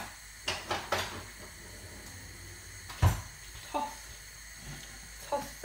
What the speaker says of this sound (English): now I'm just gonna get a spoon and toss the vegetables around